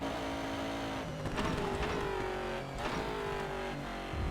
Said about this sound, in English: I don't like the sound of this car either.